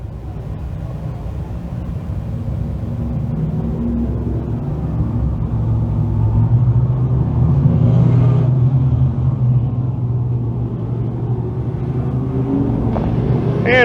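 DIRTcar 358 modified race cars roll onto a dirt speedway for a heat race, a continuous low engine rumble that swells slightly midway and stays steady and fairly loud throughout.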